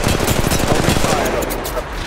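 Rapid automatic gunfire in the mobile battle game Apex Legends Mobile, a dense loud burst of shots lasting about two seconds, with game voice lines mixed in.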